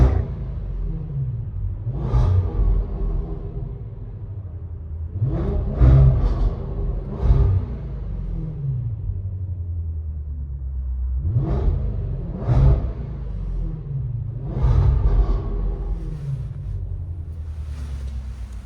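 A 2022 Range Rover SVR with a 5.0-litre supercharged V8, X-pipe and resonator delete is revved inside a shop: repeated deep throttle blips rise and fall in clusters, booming close and loud, with idle rumble between them.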